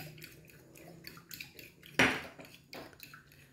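A spoon clinks and scrapes against a bowl while beaten egg is stirred into dissolved sugar for French toast, with light repeated taps and one sharper knock midway.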